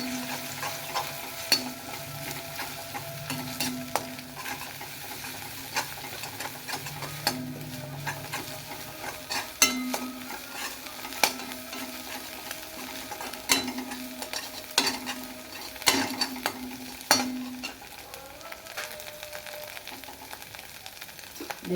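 Egg being scrambled and fried in a pan while making egg chow mein, a low steady sizzle broken by repeated scraping and clinking of a spatula against the pan, close and moderately quiet, no voices.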